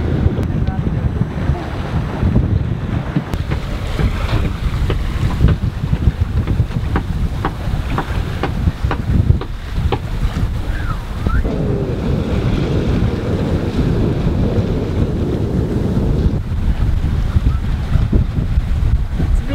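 A sailboat under way off the Spanish coast between Alicante and Cartagena, with steady broadband wind rush and water wash against the hull, loud and continuous throughout, buffeted by wind noise on the microphone.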